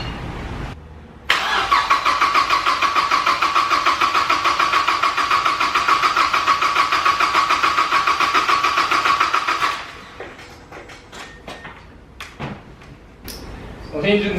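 A damaged Mazda MX5 engine cranks over on the starter in a steady, rapid, whirring rhythm for about eight seconds, loud and close, then cuts off, leaving quieter workshop clatter.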